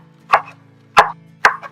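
A knife chops fresh cilantro on a cutting board in three distinct, evenly spaced chops, close and crisp, with a light low hum behind.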